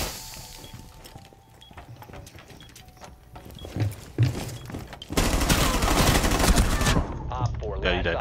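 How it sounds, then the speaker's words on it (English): Rapid gunfire in Rainbow Six Siege, loud bursts of automatic fire and shots with crashing impacts, building to a dense sustained volley near the end, with some talk mixed in. "I swear to God, Chris, I almost shot you trying to kill him."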